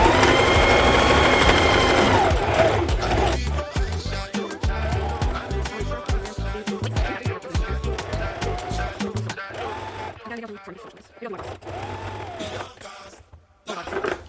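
A sewing machine runs a zigzag stitch along an elastic pants waistband, whirring loudly in fast bursts that stop and start in rapid rhythmic stutters, with a voice speaking over it.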